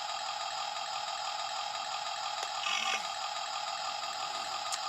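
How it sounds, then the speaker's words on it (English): A toy laser battle tank's turret turning, a short whirring mechanical buzz that rises over the toy's constant electronic idle hum for about a second in the middle, then drops back to the steady drone. "Noise when the turret turns."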